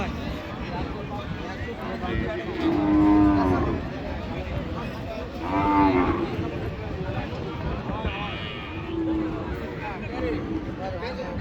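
Cows moo repeatedly at a busy cattle market in Raniganj where dairy cows are being sold, several loud calls rising over a steady crowd babble of people talking and bargaining.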